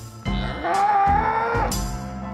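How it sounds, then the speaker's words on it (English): Chianina cattle, a very large breed raised in Tuscany for steak, give a sustained, mid-pitched moo lasting about a second and a half, clear and fairly close. "Chianina are the world's largest cows"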